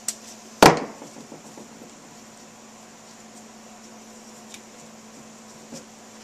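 A single sharp crack as a wrench breaks a KYB motorcycle shock's bleeder bolt loose, close and loud, followed by a quiet steady hum with a couple of faint small taps.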